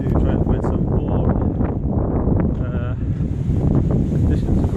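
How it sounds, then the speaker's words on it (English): Strong wind gusts buffet the microphone outdoors in the Forest of Dean, a loud, continuous low roar with a steady rush and no break. "Excuse me for the wind. It's very, very windy out here."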